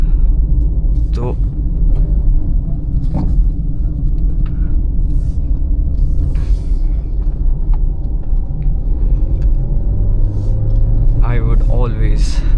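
A Hyundai i20 Elite climbs a narrow forest road near Shimla with a loud, steady engine rumble and road noise throughout, along with scattered clicks and a brief rising whine near the end.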